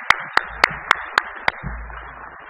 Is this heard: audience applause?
yes